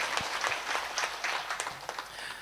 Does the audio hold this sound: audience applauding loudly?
yes